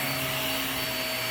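A budget vacuum cleaner runs in a room with steady, loud motor whine and airflow hiss, constant throughout with no speech.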